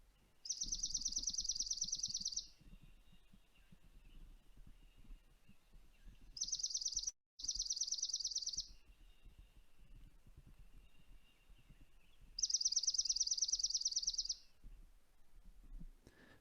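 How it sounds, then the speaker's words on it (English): Swamp sparrow song in a quiet recording: three separate bursts of a flat, rapid, high trill, each one to two seconds long, with short silences between them. "Let's give a listen to the swamp sparrow song."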